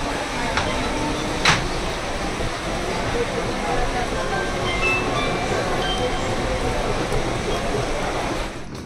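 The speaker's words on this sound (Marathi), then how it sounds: "ऑलमोस्ट ऑन टाईम ट्रेन निघाली आहे" Continuous rumbling and rattling of a moving train, steady and fairly loud, with a brief squeak early on.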